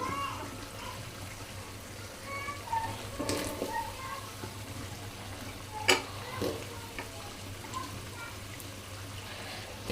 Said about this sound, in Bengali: যে মশলাটা তেল উপরের দিকে উঠে চলে আসছে এখন দিয়ে দিব আলু